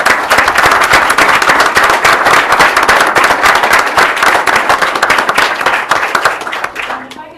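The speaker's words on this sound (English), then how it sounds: "we need to give a round of applause to their families" Vigorous, crowded clapping in a board of education meeting hall honors student athletes and their families, loud and continuous before tapering off near the end.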